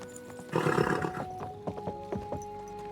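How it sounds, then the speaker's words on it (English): Horse in the video game Kingdom Come: Deliverance 2 giving a loud, harsh neigh up close, followed by a few scattered hoof thuds and snorts under a steady tonal hum of game ambience. "Easy, good horse."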